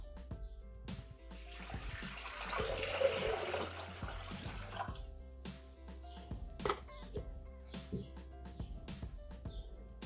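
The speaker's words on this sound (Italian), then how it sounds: "Iniziamo la ricetta mettendo all'interno del boccale l'acqua." Water poured into a Thermomix bowl, a soft splashing stream of a few seconds early on, followed by quiet clinks and light handling knocks in a calm kitchen.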